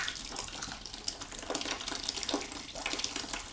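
Water draining out of a beeswax processing tank with new equipment, a steady running gush like a tap emptying into a basin, continuous and fairly close with small splashy fluctuations and no talking.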